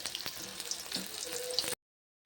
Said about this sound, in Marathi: पण छान पनीर चिल्लीसाठी ते आता तळून घेऊयात